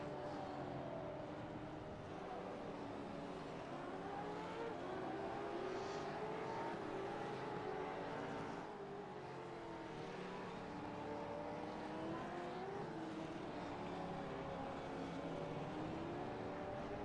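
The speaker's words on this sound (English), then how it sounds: "So Stephen Varga is going to move that race car into the lead." Gen3 V8 Supercar race car engines in a sim racing game, a continuous faint engine drone with shifting pitch as several cars run together, no talk over it.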